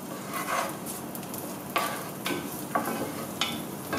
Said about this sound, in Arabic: كنطبقو الكل حتى تيتقلى لينا البصل تتقلى مزيان